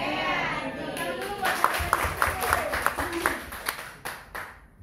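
An audience of teachers at a school gathering claps in a burst of scattered applause that builds and then fades, with children's voices and chatter mixed in.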